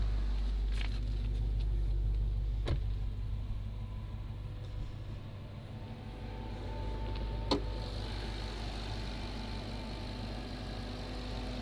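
A stock Dodge Hellcat pulled from a salvage auction runs steadily at idle, a deep, even engine rumble close by with two brief sharp clicks along the way.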